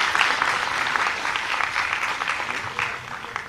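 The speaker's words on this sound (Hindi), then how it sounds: "इसलिए हम एक बार जोरदार तालियों से इन बच्चियों का स्वागत करें।" Audience applause at a state-level Gargi award ceremony in Jaipur, welcoming a group of girl performers after their show; dense, steady clapping from a hall crowd that holds evenly for the whole stretch and thins slightly at the end.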